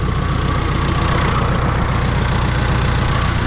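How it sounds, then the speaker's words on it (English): A bulldozer engine works in an open field, a loud, steady, close diesel rumble with a throbbing low drone and constant mechanical clatter, running unbroken with no voices. "I'm going to be popping everything out with this dozer"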